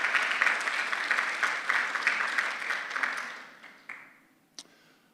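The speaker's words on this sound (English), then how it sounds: "Can we have a round of applause for them as well?" An audience claps steadily for several seconds, then the applause thins out and fades, leaving a few last scattered claps.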